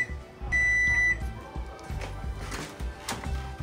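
An oven timer gives a steady electronic beep lasting under a second while pretzels bake, followed by soft clunks and handling noises nearby.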